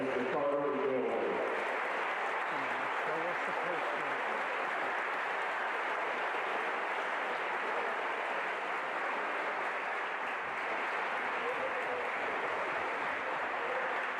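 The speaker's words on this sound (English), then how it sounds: "Let's give him a round of applause" A crowd at a high school boys basketball game applauds steadily for several seconds, dense clapping filling the gym, with cheers and voices mixed in.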